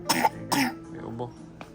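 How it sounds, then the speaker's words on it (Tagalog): A pair of quick coughs in close succession, near and clear, followed by quieter murmuring and a faint trailing sound. "May ubo."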